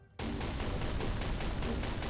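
A burst of AK rifle fire in the People Playground video game: rapid, dense shots packed into a continuous loud volley that starts abruptly after a brief silence and runs to the end, with no voices.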